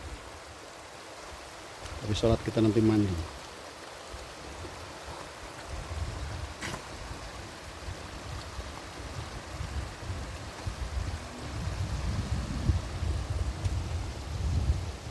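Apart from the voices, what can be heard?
flowing river water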